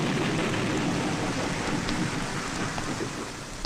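Heavy rain pours steadily outside at night, a dense, loud roar of falling water with deep thunder rumbling underneath, continuous with no voices.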